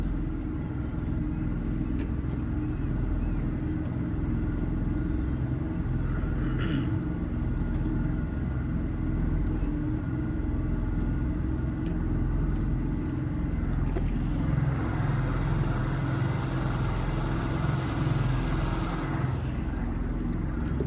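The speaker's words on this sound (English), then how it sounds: "So we'll put it on plane, take it up to cruising speed around about 3000 RPM" A Galeon Galia 620 with a Mariner 150HP outboard drones steadily, then the engine note rises and grows rougher as the boat speeds up onto plane toward about 3000 RPM, with water rushing beneath.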